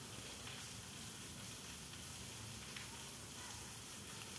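A steady, even sizzle and hiss from a spice paste of tomato, green chilli, ginger, turmeric, cumin and coriander powder frying in a pan, continuous and fairly quiet throughout.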